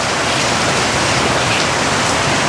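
Heavy rain falls steadily during the rainy season in the Philippines, a dense, even hiss with no pauses and no talking.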